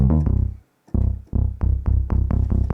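Serum 2 synthesizer bass preset playing a rhythmic pattern of punchy, loud tonal notes with a brief gap near the start, then steady repeated hits, no talking.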